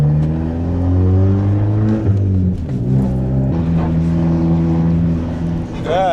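An Audi A3 8P hums from inside the cabin while driving, its engine note rising and falling through gear changes at a moderate, steady level, with a brief voice near the end.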